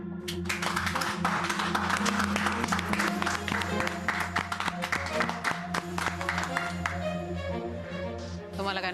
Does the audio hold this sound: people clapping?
yes